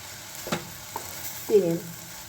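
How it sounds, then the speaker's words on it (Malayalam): Vegetables sautéing in a pan while being stirred, heard as a few faint scraping strokes and a brief soft sizzle over quiet background, with no talking. "ഈ പച്ചക്കറികളൊക്കെ ഒന്ന് നന്നായിട്ട് വഴന്ന് വന്നിട്ടുണ്ട്"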